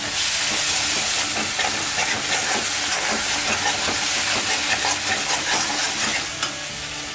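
Onions frying in a pan with chili powder, coriander powder and turmeric for a Rayalaseema-style country chicken curry give a steady loud sizzle and hiss, with stirring scrapes running through it.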